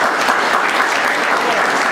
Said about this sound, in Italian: rivolgiamo un grosso applauso ai due padroni di casa